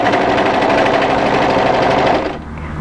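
An overlocker runs a seam on a knit winter sweater, a loud rapid mechanical whirring hum that holds steady for over two seconds and then cuts off.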